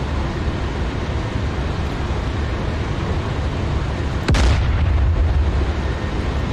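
A tank main gun fires in DCS World, one sharp heavy boom that cuts through steady engine rumble and leaves a deeper rumble after it.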